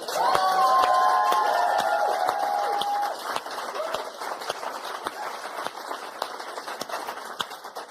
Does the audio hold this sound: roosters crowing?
no